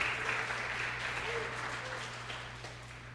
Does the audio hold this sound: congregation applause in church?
yes